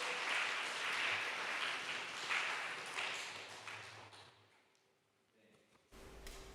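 A church congregation applauds a newly arrived visitor at a Sunday worship service, a dense, fairly quiet round of clapping that fades out after about four seconds, followed by a brief near-silence and a few soft knocks.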